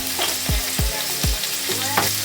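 Vegan mock meat fries and browns in a pan with a steady close sizzle, broken by a few low thumps as it is stirred or scraped, and no voices.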